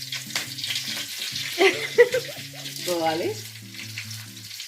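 Green chillies fry in hot oil, giving a soft, steady sizzle with a few stirring scrapes, while a nearby voice talks over it throughout.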